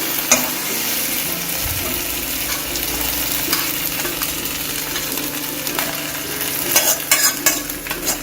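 Steady sizzling and frying of crab in a masala in a pan, with a spoon scraping and stirring throughout, a few sharper metallic scrapes toward the end.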